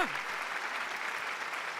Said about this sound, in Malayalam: നല്ല കയ്യടി